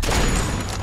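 A single gunshot in The Walking Dead game, a short loud boom with a quick broad decay lasting under a second.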